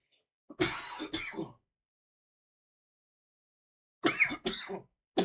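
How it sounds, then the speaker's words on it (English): Two separate bouts of coughing and throat clearing, each a cluster of three or so harsh close coughs, spaced by a few seconds of silence. "I'm gonna cough again."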